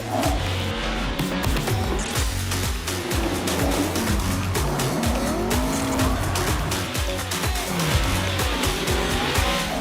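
Drift cars screaming around the Long Beach street circuit at a Formula D event, continuous loud tire squeal layered over revving, wailing engines with rapid gear shifts, dense and close throughout.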